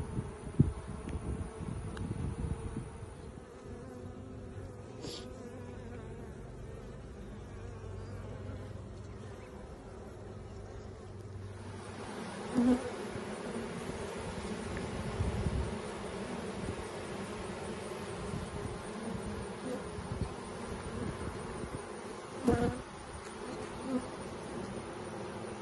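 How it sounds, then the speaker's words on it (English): Bees in a bee yard during a hive inspection, a steady, close, low buzzing drone that runs the whole time, with occasional soft handling knocks and no talk. "with a bunch of bees"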